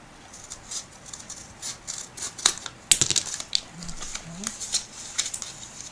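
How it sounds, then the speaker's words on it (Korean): Scissors snip through paper during a craft of folding and cutting paper toys, with several quick, close crisp cuts among light rustling and handling noises. "여기 빠져나가는 부분은 가위로 잘라줍니다."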